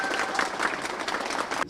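Applause from the audience at the opening of a natural gas boiler store, lively and sustained clapping for nearly two seconds before it cuts off abruptly.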